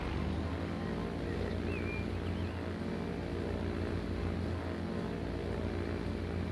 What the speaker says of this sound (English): We're gonna get this terrible little plane again.